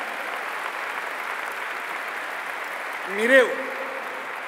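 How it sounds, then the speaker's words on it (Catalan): A political rally audience applauding: dense, steady, sustained clapping fills the whole stretch, and near the end a voice briefly speaks over it. "mireu, no aplaudiu tant, si no, no acabarem"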